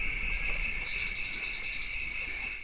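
An elephant forest clearing at night carries a dense, steady chorus of chirping insects, several high tonal bands droning continuously alongside a low hum, with no voices.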